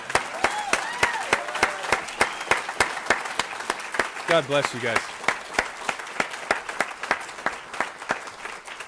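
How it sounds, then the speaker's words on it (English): An audience at an annual MS Society chapter celebration breaks into applause, sharp claps and cheers rolling on steadily with a brief call of thanks from someone in the crowd partway through. "I think he deserves a massive round of applause for that."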